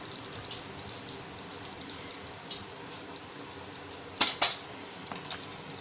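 Mirchi ka salan, a Hyderabadi chilli curry, is served from a pot: a quiet kitchen background gives way to two sharp metal clinks of a utensil against the pot near the end, followed by a few softer taps.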